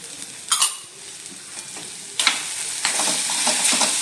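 Okra and potato curry with spices being stirred in a pan, a continuous soft sizzle with sharp scraping strokes of a spoon, the frying growing louder and brighter toward the end.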